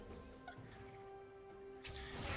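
Fowl noises in a video game: a few short clucks and gobble-like calls, quiet and brief, over a faint electronic hum with a rising noisy burst near the end.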